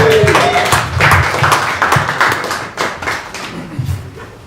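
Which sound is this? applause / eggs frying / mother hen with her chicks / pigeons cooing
applause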